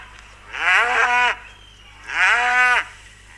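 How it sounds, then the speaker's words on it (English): A cow named Queeny gives two loud, close moos, each a drawn-out low call lasting under a second, separated by a short quiet pause. "Queeny is not a whale, she's a cow"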